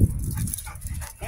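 A dog whimpers and yips in short, uneven bursts while playing indoors at close range, with no voices over the sound.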